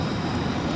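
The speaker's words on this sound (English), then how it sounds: "No, that's a plane. That's a plane." Airplane flying overhead while traveling to Charlotte, NC, a steady broad roaring rumble heard briefly and fairly loud, without voices.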